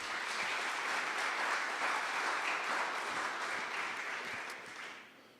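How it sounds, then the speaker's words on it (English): Sustained audience applause at a community event in Indianapolis, a dense steady clatter of many hands clapping throughout, fading away in the final second. "I think we should clap for that."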